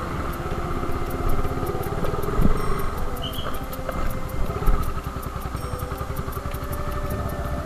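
A motorcycle idles with a steady, close, rhythmic putter as it is ridden into a shopping mall parking area, with a few thumps and clatters over the engine.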